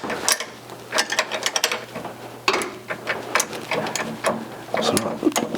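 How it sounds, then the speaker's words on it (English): A wrench working a suspension part loose on a 1985 Mercury Capri, a run of close, quick ratcheting clicks in bursts with short pauses, with faint speech in places. "you can just get a wrench on it"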